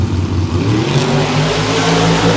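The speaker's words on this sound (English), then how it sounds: "you can hear them still making those test sets in the background" Small tire drag racing cars rev loudly on test passes at a Thursday night test and tune, a continuous roaring engine drone close by with no voices.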